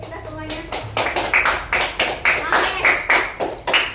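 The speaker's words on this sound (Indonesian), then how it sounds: "Tepuk tangan lagi untuk kita semuanya." Students clapping in a classroom during a coding lesson, a group breaking into rhythmic, fairly loud claps that settle into an even beat, with a brief voice at the start.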